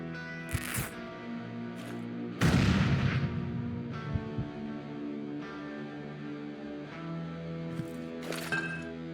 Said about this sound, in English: throw a grenade, buy space, buy space